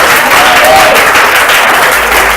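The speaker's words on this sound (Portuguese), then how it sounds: "E dê um aplauso ao Senhor de agradecimento." A church congregation breaks into loud, sustained applause in thanks, a dense wash of many hands clapping at once that fills the room steadily with no break.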